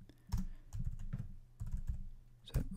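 Close, crisp keystrokes on a computer keyboard while coding an iOS app, a quick irregular run of clicks in small clusters with no talking.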